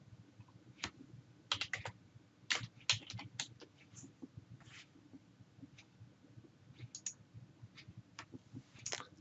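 A computer keyboard is typed on in irregular bursts of sharp, close clicks and taps over a faint background hum, with short pauses between keystrokes.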